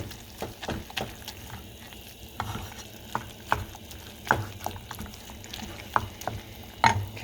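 Homemade chili being stirred in a pot, a spoon scraping and clacking against the sides in a steady run of close, irregular knocks over a soft simmering bubble, with no talking.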